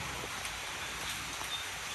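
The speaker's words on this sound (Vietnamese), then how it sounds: "Mưa ngày càng nặng hạt." Rain falls steadily and fairly quietly, a dense, even hiss of drops with no talking.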